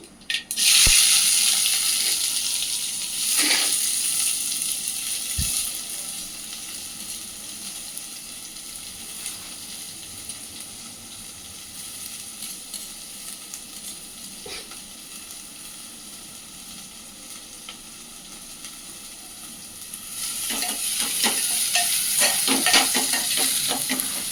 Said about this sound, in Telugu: ఫ్రై అవనిద్దాం ఇది లైట్గా